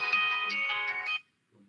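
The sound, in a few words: telephone ringing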